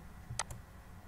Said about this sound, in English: Now right click on this plus icon. Click on copy,